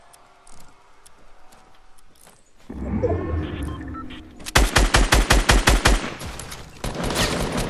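Video game gunshots, a quick burst of about eight evenly spaced, loud, punchy shots following some rumbling activity, with more firing resuming at the end.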